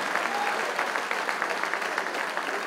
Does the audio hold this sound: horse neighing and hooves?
no